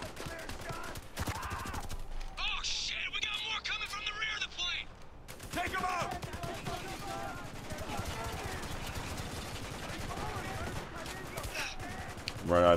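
Rapid automatic gunfire and bursts of shooting in the war shooter game Spec Ops: The Line, dense and continuous for most of the stretch, with a voice calling out over the combat.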